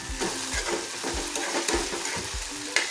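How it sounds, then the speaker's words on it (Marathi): Tomatoes softening in a pan are stirred with a steady, repeated scraping rhythm over a continuous close sizzle of frying, with no talking. "आता हे थोडंसं हलवून घ्यायचं छान।"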